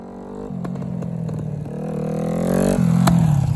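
A Yamaha R3 motorcycle ridden close by, its engine tone climbing steadily through the revs with a brief shift, growing louder toward the end with faint rattles.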